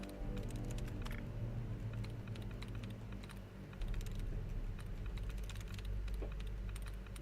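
Steady clicky mechanical computer keyboard typing runs throughout, a dense patter of sharp keystrokes over a low background hum, close and moderately loud, with no voices.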